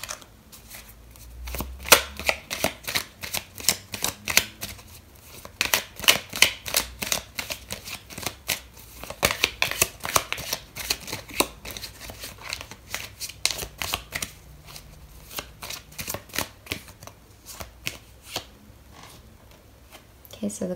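Tarot cards being shuffled in a dense run of quick papery riffles and flicks, continuing steadily for about twenty seconds with no one talking over them.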